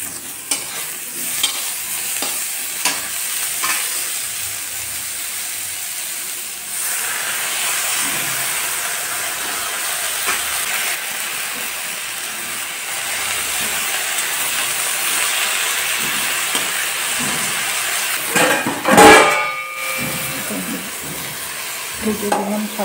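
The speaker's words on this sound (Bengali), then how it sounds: "ভেজে দিলাম শাকগুলো" Leafy greens fry with eggplant and green chilies in a pan, a continuous soft sizzle and hiss with scraping stirs, close, and a sharp burst of spatter near the end.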